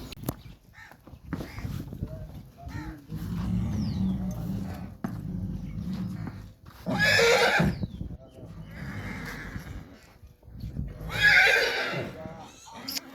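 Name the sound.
horse neighing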